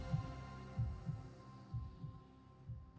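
A pounding heartbeat sound effect thumps in low, regular double beats over a faint steady hum, about four beats in three seconds, with no voices.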